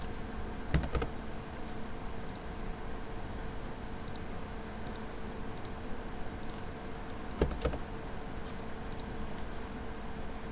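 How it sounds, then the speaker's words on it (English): A computer keyboard is typed on while entering multi-line text in AutoCAD: a few sparse, soft keystroke clicks spread across a steady hum of background noise. "type the required text"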